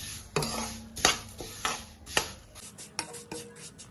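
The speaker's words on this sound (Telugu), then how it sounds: "ఇందాక జీడిపప్పు వేయించిన నెయ్యిలోనే మనం సేమియా వేసి వేయించుకుందాం" Vermicelli is fried in ghee in a pan and stirred with a spatula, producing a series of sharp clacks and scrapes against the metal at an uneven pace.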